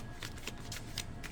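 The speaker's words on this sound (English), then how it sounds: "shuffle" A deck of cards is riffled and shuffled nearby in several quick, papery bursts about a quarter second apart, alone without talk.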